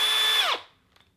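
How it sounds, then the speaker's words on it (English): A power drill whines at high speed and then winds down while drilling the first hole for a bonnet scoop on a 100 series Land Cruiser, loud and close, followed by a faint click. "So we're gonna drill the first hole."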